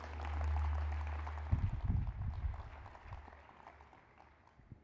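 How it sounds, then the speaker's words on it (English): Audience claps at a national youth sports summit, a burst of applause starting after a low hum and tapering off gradually into a fainter patter. "Round of applause for those two."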